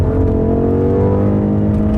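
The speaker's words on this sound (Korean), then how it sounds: "이놈은 굉장히 경쾌한 엔진음을 들려주거든요" A BMW M8 Gran Coupe's engine holds a steady, loud, smooth drone with a slowly climbing pitch, heard close and alone without any talk.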